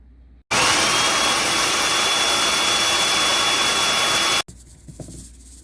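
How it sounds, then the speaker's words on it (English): A food processor grinds dehydrated garden greens into powder with a loud, steady whirring roar that starts and stops abruptly after about four seconds, followed by faint clatter and no voices. "now I've got them in my food processor, and I'm going to beat them up into a powder"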